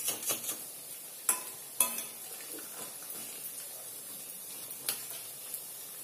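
Vadas fry in hot oil with a soft, low hiss, broken by a few sharp clicks and taps of a utensil against the pan, close and without talk.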